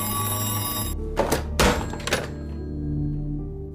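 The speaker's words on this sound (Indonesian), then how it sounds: "Tak lama dari itu terdengar lagi dering telepon." Telephone ringing indoors at night, a steady electric bell ring that stops abruptly, followed by a few heavy thumps and clatters, then a quiet low hum.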